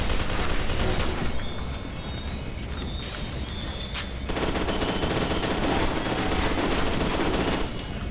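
Rapid gunfire in F.E.A.R. 2: Project Origin, loud dense bursts of automatic shots that run almost continuously, with a short lighter stretch midway, no talk.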